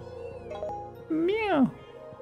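Cat meowing in the Spiral Knights video game, a single short rising-and-falling meow heard close and clear after brief quieter sounds.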